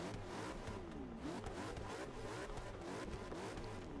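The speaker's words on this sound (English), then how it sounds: "It does really sound really aggressive with this V8 inside of this car" A McLaren P1 GTR race car's V8 engine in Forza 6 revs hard and continuously, a raw aggressive roar rising and falling in pitch, loud and close with no voices.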